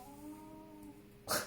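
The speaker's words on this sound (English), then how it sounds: "that was my cat" A house cat lets out a drawn-out, wavering meow that fades, followed by a brief sharp rustle or thump at the end, close and without speech.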